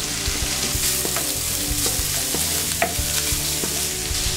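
Chorizo hits a pan of onions already turned translucent and fries with a steady, close sizzle, broken by frequent clicks and scrapes of a spoon stirring through the mix.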